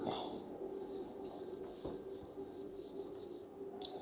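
Chemistry formulas are written on a board, making faint, continuous scratching strokes close by, with no speech.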